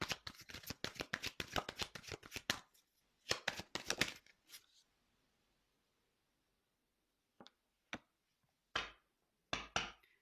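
Tarot cards are shuffled in a fast, dense riffling run of several seconds, then handled again in a short second burst, followed by a few isolated soft snaps and slaps as cards are drawn and laid down, close and dry.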